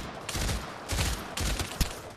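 Automatic gunfire from a machine gun in the VR shooter game Pavlov, loud close bursts separated by short pauses, with no talking.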